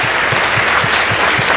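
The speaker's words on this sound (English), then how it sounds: "Please give them a round of applause." Brief, loud, steady applause from a school debate audience, dense clapping filling the whole moment with no speech over it.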